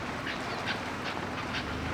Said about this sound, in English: there were some really weird birds that I've never seen before.